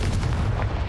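Confringo fire spell blasts from Hogwarts Legacy, heavy booming explosive impacts crowding a brief, loud, continuous burst with no talking.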